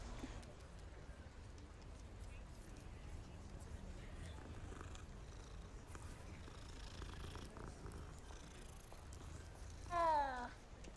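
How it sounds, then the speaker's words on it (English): A cat in the Hogwarts Legacy video game purrs in a soft, continuous rumble throughout, then lets out one short, rising meow near the end, with quiet game ambience beneath. "I got distracted by the cat."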